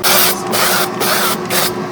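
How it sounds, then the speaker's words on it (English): A can of cooking oil sprays onto food laid out for an air fryer in several loud, hissing bursts close by, each lasting about half a second, with brief gaps between them. "Spray with oil."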